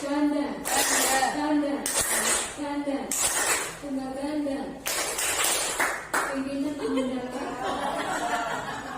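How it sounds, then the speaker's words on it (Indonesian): A class of pupils claps out a single-and-double clap pattern, sharp bursts of hand claps recurring every second or so beneath a teacher's steady talking voice. "Tepuk tunggal"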